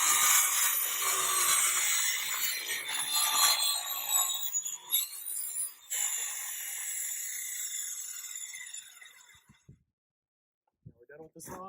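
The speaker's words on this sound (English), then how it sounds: "Now we're done with the saw." A hand saw cuts slowly through wood in a long, steady rasping stroke sequence that fades out near the end, followed by a few soft knocks, close by.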